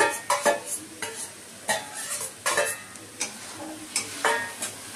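Soybean chunks and fried potatoes in a pan, stirred with a spatula over a soft sizzle: irregular clanks and scrapes against the pan, close by, repeating every half second or so, with no voices.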